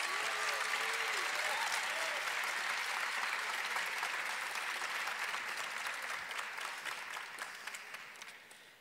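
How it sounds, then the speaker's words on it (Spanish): Warm applause from a graduation ceremony audience for graduate program graduates, a dense steady clapping that fills the hall, then gradually thins and fades toward the end. "Demos un cálido aplauso para los egresados de los programas de posgrado del Departamento"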